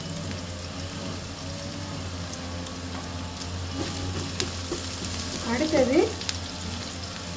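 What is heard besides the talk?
ingredients sautéing in a pan for palak paneer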